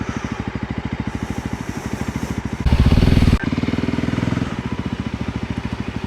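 A VOGE 300 Rally motorcycle engine thrums steadily up close, its rapid regular pulsing briefly swelling into a louder, rougher burst around the middle before settling back to an even beat.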